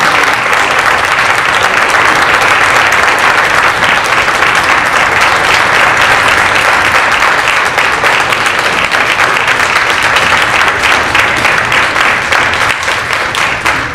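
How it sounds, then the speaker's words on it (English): Loud, sustained applause from an advocacy panel audience for the panelists, a thick continuous roar of many hands clapping close by that stays even throughout. "give our panelists a hearty round of applause"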